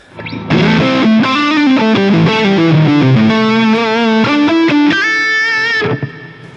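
Electric guitar played through an Orange Rockerverb amp model on a Line 6 Helix, a distorted, sustained chordal and melodic phrase with chorus-like shimmer, loud and continuous for several seconds before ringing out.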